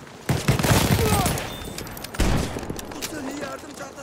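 Submachine gun fire in the Battlefield 1 shooter game, with rapid bursts and loud impact blasts over chaotic battle noise, with players talking over the shots.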